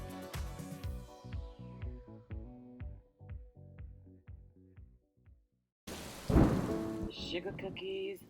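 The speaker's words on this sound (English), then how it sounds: "Unfortunately, it started thundering, and that's why I'm doing the voiceover." Thunder rumbles outside alongside falling rain, a loud sustained burst arriving late after a stretch of music-like tones and a brief silence.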